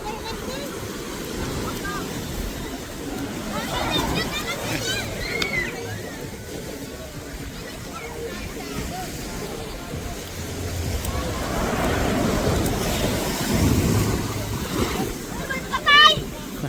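Waves washing and sloshing along a beach at Nasugbu, Batangas, swelling louder toward the end, with people talking over the surf.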